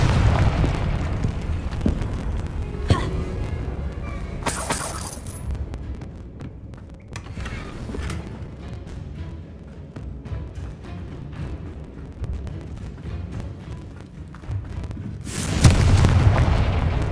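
Confringo explosive spell blasts in Hogwarts Legacy: heavy booms open and close the stretch, with rumbling combat noise and scattered bursts between them, loud and close throughout, without speech.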